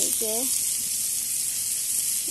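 Brinjal (eggplant) frying in oil: a steady, close hissing sizzle continues throughout, with a brief voice sound near the start.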